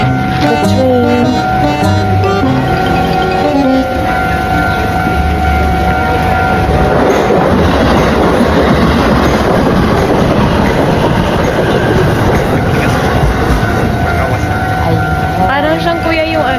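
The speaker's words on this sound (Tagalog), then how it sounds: "The train." A train rolls past close by, loud and steady throughout, with rumbling wheels and rhythmic clickety-clack over the rails. Voices talk briefly near the start.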